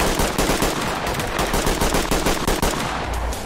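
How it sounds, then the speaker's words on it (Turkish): An automatic gun firing in a video game military operation, a dense continuous rattle of rapid shots at close range, loud and unbroken. "Oo, baksana otomatik silah var."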